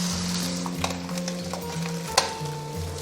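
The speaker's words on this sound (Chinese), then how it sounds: "接着下入咸鸭蛋跟皮蛋还有香菇，把这3种食材的味道全部炒出来" Salted duck egg, century egg and shiitake with cabbage are stir-fried in a hot wok, giving a steady close sizzle with a scraping spatula and a sharp clink of utensil against the pan.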